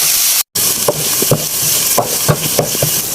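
Onion with garlic ginger paste fries in a pan with a continuous loud sizzle, broken by regular scraping clicks of stirring about twice a second and one brief dropout near the start.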